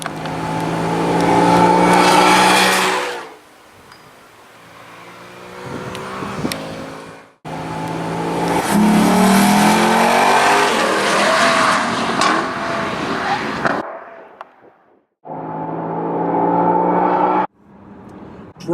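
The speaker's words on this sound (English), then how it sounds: "a nice big V8 under the hood" A Lexus LC 500's big V8 engine roars loudly as it accelerates, with rising harmonic tones, breaking off briefly between bursts of revving.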